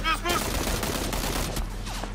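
Gunfire in the video game PUBG, a burst of rapid shots close and loud for about two seconds, with brief clatter and a voice over it.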